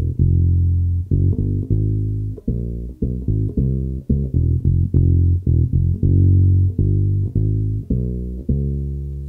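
A bass guitar plays a bass line, a repeating four-bar pattern of plucked notes at a steady driving rhythm, loud and close and heard alone with no talking.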